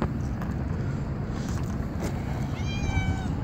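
An abandoned stray cat gives a short, faint meow near the end, rising out of steady outdoor background noise.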